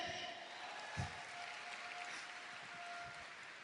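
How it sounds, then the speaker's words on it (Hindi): Audience at a stage event in Surat applauding, a soft, distant wash of steady clapping with one sharper burst near the start and a faint voice over it. "खुद के लिए ताली बजा सकते हैं?"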